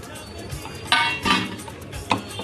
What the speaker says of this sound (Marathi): आता याच्यात हळद आणि कस्तुरी मिरची मिक्स करत आहे